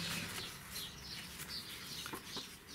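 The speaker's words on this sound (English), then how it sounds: "And maybe you can hear the birds here in the background." Small birds chirp in the background in a string of faint, brief high twitters over a soft, steady hiss of room noise.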